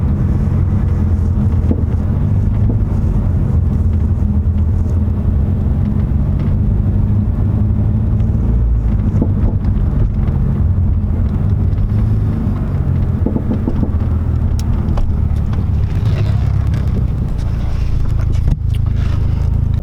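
Hyundai Genesis Coupe 2.0T engine droning steadily from inside the car while driving, a constant low rumble mixed with road and wind noise throughout.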